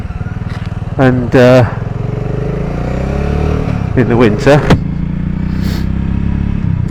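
A BSA Goldstar 650 motorcycle engine runs steadily in winter with a throbbing, pulsing idle throughout, close and fairly loud, while someone talks over it.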